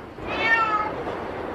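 A single drawn-out meow from a white Van cat at Izmir Zoo in Turkey, close and fairly loud, rising and then falling in pitch over about a second with no talking.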